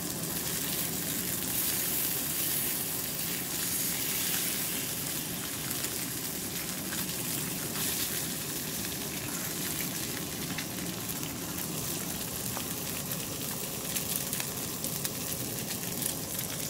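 Slices of Danish pork belly sizzle and spit in a frying pan, a steady, dense crackle running for the whole stretch with no voices over it.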